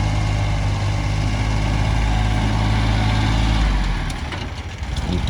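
A small Japanese tractor with a 15 hp three-cylinder direct-injection diesel idles steadily and close by, a low even rumble that drops off slightly toward the end, with no talking.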